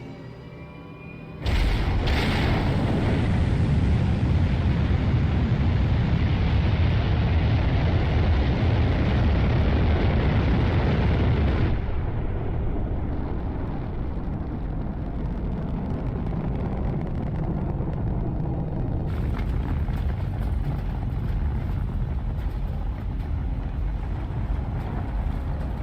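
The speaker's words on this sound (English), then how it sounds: "Struts disengaged. Commencing launch." A spacecraft launch in Halo: Reach sets off a sudden, massive engine burn: a loud broadband roar bursts in after a short quiet, rumbles steadily, then eases to a lower sustained thunder before a brighter hiss returns near the end.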